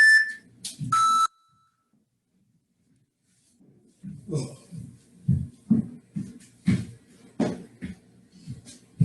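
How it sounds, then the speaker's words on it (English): Three sharp electronic beeps from a workout interval timer sound close and loud, then silence, followed by rhythmic thumping and heavy breathing from burpees with a jack. "you guys can hear those beeps, right? So there's just 3 beeps and then the break."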